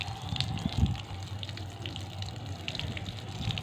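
A pigeon splashes and bathes in shallow water, with steady watery sloshing and brief flutters of wing-flapping close by, no voices.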